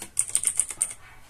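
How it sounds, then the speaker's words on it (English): A burst of about eight quick keystrokes on a computer keyboard while a Linux terminal command is typed, crisp and close with a fast, even rhythm. "So I'm going to type sudo"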